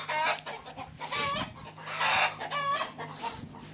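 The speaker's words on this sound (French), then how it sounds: "Les poules, ils sont pas très calmes." Hens cackle and cluck in agitated, uneven bursts, loud and close in a farmyard coop, with several overlapping calls and no talking.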